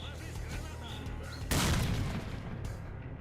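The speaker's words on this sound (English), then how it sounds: "here's a grenade to blow you apart!" A grenade explodes in a video game with a sudden loud, broad blast that swells and rumbles away over a second or so, set against steady game noise and background sound.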